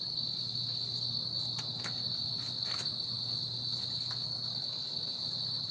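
A steady, high-pitched chorus of crickets chirping continuously, with a low hum beneath and a few faint clicks.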